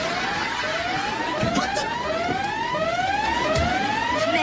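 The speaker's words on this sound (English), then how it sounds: "It's a sound effects blaster, and it's insanely loud. Here, I'll set it to, siren." A handheld sound effects blaster set to siren blares an insanely loud, steady emergency wail, its tone sweeping upward again and again in quick repeated cycles, close and continuous throughout.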